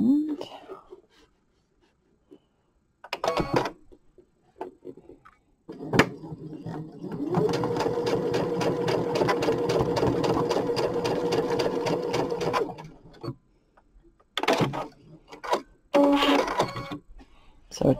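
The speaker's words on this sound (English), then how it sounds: "sew it to the end" A sewing machine stitching fabric pieces together runs steadily for about five seconds, close and fairly loud, with quiet talk before and after.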